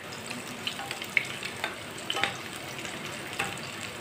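Breakfast frying in oil in a pan, a steady crackling sizzle with scattered pops and a few clinks of a utensil, close and moderately loud.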